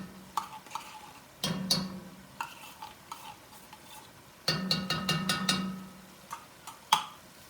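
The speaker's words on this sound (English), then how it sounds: "And I'm going to mix that in with the meat." A spoon stirs tomato paste into meat cooking over a medium-high flame, with irregular scrapes and clicks against the pot over a low sizzle, and no one talking.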